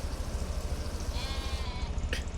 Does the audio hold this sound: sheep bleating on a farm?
yes